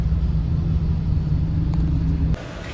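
Car engine idling in a parking lot, a steady low rumble with a faint hum that cuts to a quieter tone near the end.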